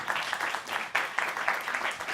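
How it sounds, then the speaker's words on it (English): Audience applause at a university media event, a moderate wash of clapping from a seated crowd, fairly even throughout and somewhat muted. "Another round of applause for Pepe, everybody."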